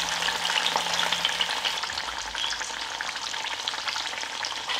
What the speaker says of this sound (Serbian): I pržit ću ga ovako sa svih strana da dobije lepu koricu.